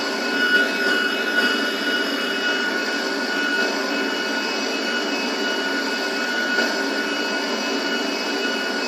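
A jet airliner in a video game holds a steady, loud engine roar with a high whine on top for the whole stretch, rising slightly at moments during the takeoff run; no speech.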